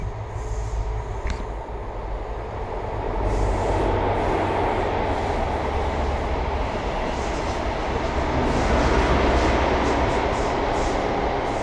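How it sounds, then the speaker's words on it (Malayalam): A small four-car train with two engine cars runs through a passage beneath a canal, giving a loud, steady rumbling roar that builds slightly and holds, with faint rattling, and no voices. "ഈ കനാലിൻ്റെ അടിയിലേക്ക് കൂടി പോകുന്നത് ട്രെയിനാണ്"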